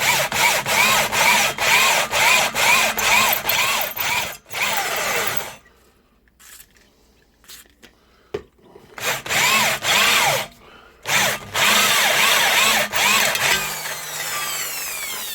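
A power drill bores a hole in body panel metal on a Mk5 Ford Cortina during restoration, whining loudly in bursts with short pauses and a quieter gap midway before drilling resumes.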